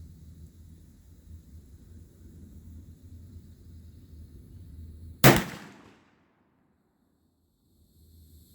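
A CVA Optima .50 caliber muzzleloader pistol fires one sharp, loud shot that booms and rumbles away, standing out over a low outdoor background hum. Near silence follows the shot.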